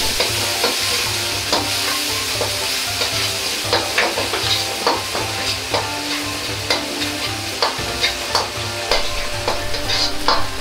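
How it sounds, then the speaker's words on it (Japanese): Ginger, garlic and green onion sizzle as they are stir-fried in oil in a pot, with a steady frying hiss and repeated scraping taps of a utensil stirring, close and alone. "薬味を炒める生姜 5g、 ニンニク 5g と長ネギを用意した 10g の半分を鍋に入れ炒める。"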